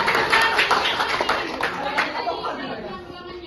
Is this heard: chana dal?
no